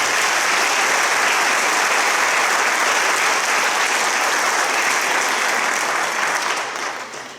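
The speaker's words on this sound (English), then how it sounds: "So can we give them another round of applause?" A school spring concert audience in an auditorium applauds the Gilmore and Sousa award winners, with steady, loud, dense clapping from a large crowd that gradually fades near the end.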